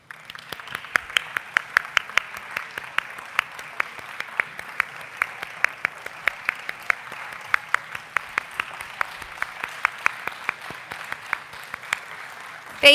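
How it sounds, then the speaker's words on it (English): An audience applauds honorees at a university distinguished alumni ceremony, a steady field of many hands clapping through the whole stretch, with a few sharper claps standing out near the front and a brief louder burst at the very end. "we're going to be applauding you a lot today"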